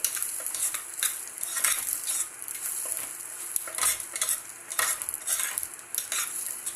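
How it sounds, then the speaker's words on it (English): Paneer pulao fries in a pan on a medium gas flame, a close, steady sizzle broken by repeated scraping and clinking of a metal spoon stirring against the pan. "Let us fry for 2 minutes. Keep gas on medium flame."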